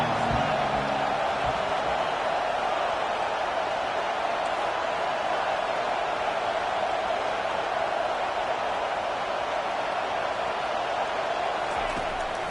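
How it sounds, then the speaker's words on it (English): A steady broadband crowd roar from an NCAA 25 college football video game swells on third down as the defense gets a sack, continuous and loud with no breaks throughout. "Decibels rising as the crowd gets behind this defense on third down."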